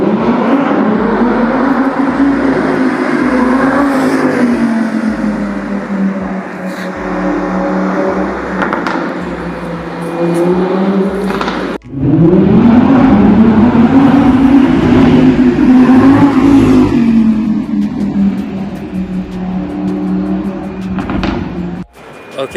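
Supercars driving and revving on the streets of Knightsbridge, London: loud, sustained engine roar with rising and falling revs and a sharp throttle burst midway, heard close by.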